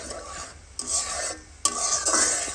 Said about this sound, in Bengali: তেলের মাঝে ফ্রাই করে নেব